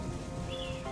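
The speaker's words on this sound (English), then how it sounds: "Good bit of rain" Rain falling in the video game Xenoblade Chronicles 3, a steady even patter and hiss throughout, with a faint rising birdlike chirp partway through and no talking.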